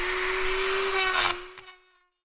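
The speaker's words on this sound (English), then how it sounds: "now I've got this all ground down with that carving tool for the Dremel" A Dremel carving bit grinds into a vintage camper drain fitting, a loud close high-pitched whine with gritty rasping that cuts off after about a second and a half and spins down to silence.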